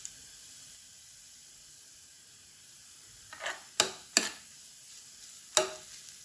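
Garlic goes into hot oil in a pan, where a faint, steady sizzle is broken by several sharp stirring scrapes and spatters close by.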